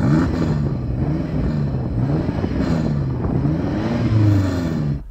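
A BMW M5 Competition engine revs in a loud, close, continuous roar, rising and falling repeatedly as it is blipped against the limiter.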